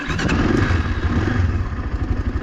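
Kovi ADT 300 motorcycle engine running close by just after starting, a loud, steady, slightly clattery single-cylinder chug with uneven pulsing beats and no voices.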